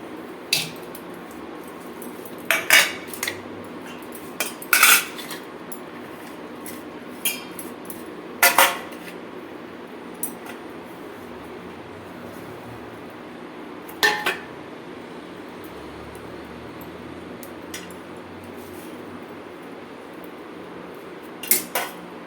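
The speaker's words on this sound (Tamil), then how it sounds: "இதெல்லாம் ஒன்று ஒன்றா போட்டு ஒரு குண்டாவில் போட்டு பெரட்டிக்கணும்" Onion and tomato are stirred together in a metal pot for a bread sandwich filling, giving sparse, sharp clinks and scrapes of a utensil against the pot over a quiet background.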